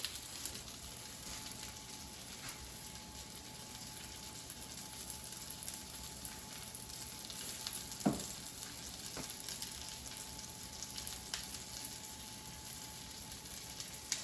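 Breaded chicken tenders pan frying, a steady close sizzle and crackle of hot oil with one brief clink partway through, no talking.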